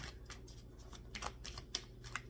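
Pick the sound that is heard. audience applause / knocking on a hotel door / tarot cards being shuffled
tarot cards being shuffled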